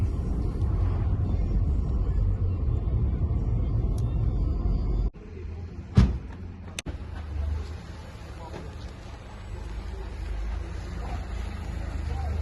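Steady low road rumble from a car driving to the post office on a hot day, a continuous engine and tyre drone with a brief break and a couple of short knocks midway.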